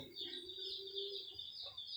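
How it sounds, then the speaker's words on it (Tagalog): A flock of about 22 chickens clucks and calls softly at a distance, a few high bird chirps mixed in over quiet background noise. "Ito yung mga manok ko."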